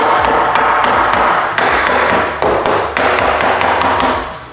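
A wooden stud is knocked into place in a wall during a renovation, with a steady series of sharp, loud hammer taps, about three per second, close by and alone.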